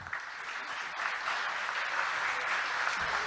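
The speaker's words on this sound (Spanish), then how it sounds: "Recibamos, por favor, con un fuerte aplauso" Audience applause welcomes a speaker to the stage at a pest-control conference, steady dense clapping from a mid-sized room, moderately loud and sustained throughout with no voices over it.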